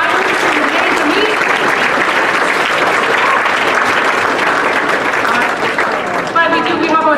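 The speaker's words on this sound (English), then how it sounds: "Can we give a big round of applause for all the moderators who made the meat?" Diners at a Lutheran church rally dinner give a loud, sustained round of applause, close and full, with a voice starting to speak as the clapping fades near the end.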